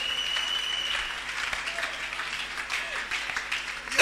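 A church congregation applauds steadily at a worship service, a dense, sustained patter of many hands with a faint tone and scattered voices mixed in.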